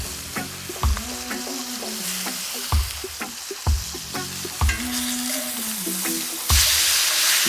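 Marinated mushrooms turning golden in a pan, sizzling close and steadily, broken by a series of regular scraping knocks from a utensil moving them around.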